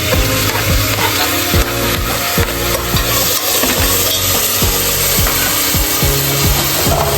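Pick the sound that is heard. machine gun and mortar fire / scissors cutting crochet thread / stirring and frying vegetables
stirring and frying vegetables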